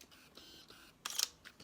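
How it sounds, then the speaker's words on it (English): One sharp double-snap shutter release from an SLR camera at a slow 1/40 setting rings out clearly after a stretch of faint room hum, followed by a small tick. "that's the shutter."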